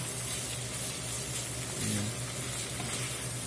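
Andouille sausage, seasoned pork, garlic and the Trinity of onion, celery and bell pepper cooking down in a pot, a steady dense sizzle with a low hum underneath, close and even, no talk.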